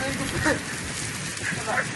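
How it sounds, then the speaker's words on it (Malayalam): Heavy rain falls steadily outdoors in Qatar, a dense continuous patter on surfaces, with someone talking over it. "നല്ല മഴയുണ്ട്, നല്ല മഴയുണ്ട്."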